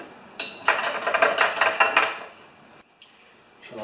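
Acetone and transmission fluid are stirred together in a container, making a burst of rattling clinks and knocks that fades to quiet near the end.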